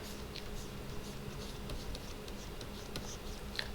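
A pen scratches across paper while drawing a cartoon character's chin, a soft, steady scratchy rasp with a few light ticks, close and quiet with no talking.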